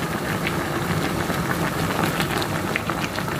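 Steady rain falls on a stormy day, a dense, even hiss of drops hitting a surface that runs unbroken from start to end, with no talk over it.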